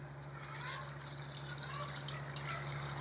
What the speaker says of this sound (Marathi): पाणी टाकूया.